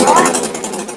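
A DDE DPG1201i petrol generator engine catches while starting from cold. A loud, close, rough running drone holds through the brief moment.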